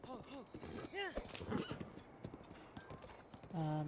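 Horse hooves clip-clopping in the video game Breath of the Wild, a quick steady trotting rhythm with a brief whinny, close and clear.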